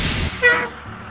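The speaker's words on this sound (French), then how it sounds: "Oh, regardez, voilà le bus qui arrive." A school bus pulls up with a short, sharp burst of air-brake hiss, a loud spray of noise that fades quickly into low engine rumble.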